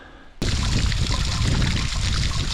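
Water running down from the top of a mountain on a rocky trail, a steady close rushing and splashing stream that starts abruptly and continues loud and continuous.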